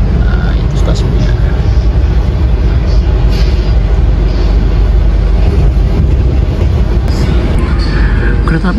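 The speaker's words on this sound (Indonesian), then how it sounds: "Kita masuk jalur 2 stasiun Gombong" The Jayakarta passenger train pulls into platform 2 at Gombong station with a loud, continuous rumble and rolling roar that stays close and steady throughout, with faint voices mixed in.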